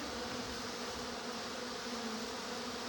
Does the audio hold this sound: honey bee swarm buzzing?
yes